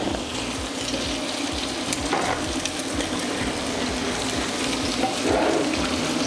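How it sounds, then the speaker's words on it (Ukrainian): Bacon fries in a pan while potato pancakes are being prepared, making a steady, close crackling sizzle with scattered pops and a watery hiss throughout. "я трішечки переверну бекон, щоб він не підгорів"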